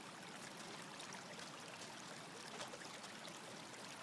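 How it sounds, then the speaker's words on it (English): Running water flows steadily in Minecraft with the GregTech 6 modpack, a soft, even trickling rush that stays faint and constant throughout, with no voices. "I hope you guys like the running water with the villager noises"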